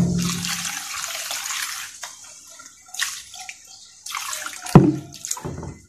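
Water is poured onto a broken clay earth chulha, a splashing gush at the start, then quieter trickling, with a second louder splash and pour near the end.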